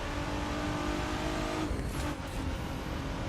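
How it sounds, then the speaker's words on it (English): Game car engine in The Crew 2 roaring steadily at high revs with a nitro boost kicking in, loud and continuous with a brief dip partway through. "Oh, I also have nitro. Let me use it."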